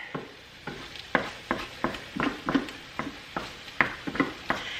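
Egg cooking in a hot pan for shrimp fried rice, with a steady sizzle and a run of sharp scraping and stirring strokes from a utensil against the pan, fairly close and with no talk.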